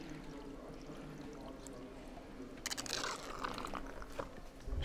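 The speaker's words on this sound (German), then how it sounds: "Schnorchelt schon richtig und plätschert auch richtig." Water pours through cleared drain holes on a vehicle, a faint continuous wash with sudden splashy gurgling bursts partway through. Quiet and close, no talking.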